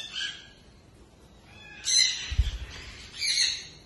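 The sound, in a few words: green parrot and macaw calls in a flight cage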